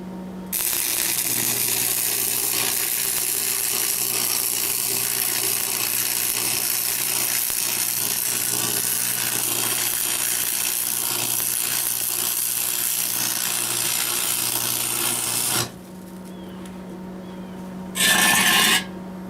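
Welding the center seam of a steel smokestack for a BBQ smoker build: a loud, continuous crackling buzz held steadily for about fifteen seconds, then stopping abruptly, followed by brief quieter handling noise.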